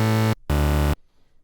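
Synth preset layering two saw wavetables for psytrance plays two short, bright, buzzy bursts, the second slightly longer, with a brief gap between and a sudden cutoff into near silence.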